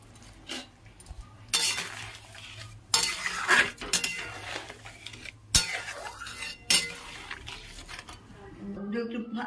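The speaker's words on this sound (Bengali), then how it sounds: "আমগুলো সেদ্ধ হয়ে গেছে, এবার আমি 1 বাটি চিনি দিয়ে দিচ্ছি।" Boiled mangoes with sugar are stirred in a pot with a metal utensil, giving irregular scraping clinks and knocks against the pot, several sharp strokes between quieter stretches, with a faint sizzle and speech in the background.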